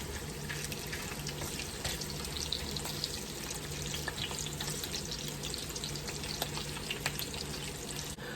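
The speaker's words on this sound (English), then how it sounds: "I think they are best fried in lard." Potatoes frying in lard crackle and sizzle continuously at a moderate level, with a low hum underneath and occasional small pops.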